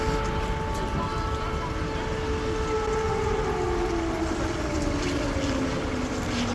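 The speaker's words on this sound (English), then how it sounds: "the sirens is the air raid sirens." Air raid sirens wail across Ivano-Frankivsk, Ukraine, a steady sustained tone that slowly falls in pitch over a constant wash of outdoor background noise.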